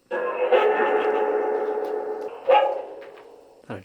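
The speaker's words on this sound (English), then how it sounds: "Is that a dog barking?" Faint, muffled dog barking comes from somewhere off in an abandoned hospital, a steady drawn-out sound broken by a couple of sharper bursts, heard from a distance and echoing.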